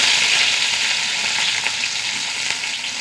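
Mustard seeds, shallots and dried chillies frying in hot oil make a close, dense, continuous sizzle with faint crackles, fading slightly toward the end.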